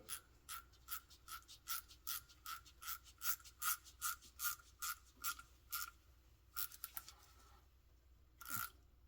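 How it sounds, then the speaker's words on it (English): A ratcheting tool clicks in a steady rhythm while a tubing fitting is tightened on heated handlebars for a snow bike, a long run of crisp, close ratchet clicks that slows and stops, then one last click. "This I can just tighten up until it stops, and then I know I'm good."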